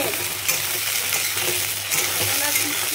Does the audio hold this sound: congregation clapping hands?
no